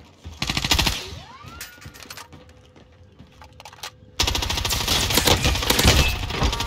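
Rapid automatic gunfire from the video game Warzone, bursts of close, loud shots and clattering impacts, easing into quieter scattered fire before a dense, sustained volley resumes abruptly.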